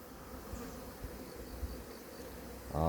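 Bees and hornets buzzing around outdoor beehives fitted with hornet traps, in a shaded spot: a faint, steady insect hum drifting near and far, with a louder disturbance at the very end.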